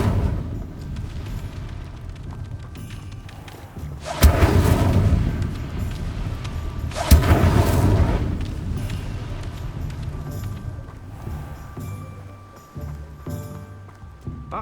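A fire spell cast in the video game Hogwarts Legacy: two sharp, loud whooshing bursts a few seconds apart flare up over a steady low game ambience.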